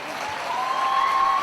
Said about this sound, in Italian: Questo è un applauso.